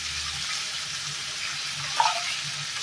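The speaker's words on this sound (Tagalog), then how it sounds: "Yan, igisa lang natin ng konti." Beef finger ribs sautéing in a pan for a Chinese-style dish, a steady soft sizzle with a brief stir or clink near the end, no voices.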